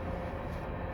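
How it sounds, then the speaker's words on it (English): Train passing outside, a steady broadband rumble and roar that stays constant and fairly loud through a brief moment, with no voices. "Sorry about the train noise."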